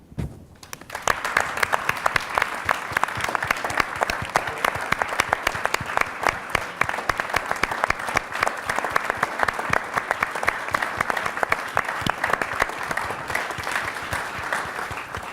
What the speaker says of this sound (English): So if you could all stand, we'd love to give you a round of applause.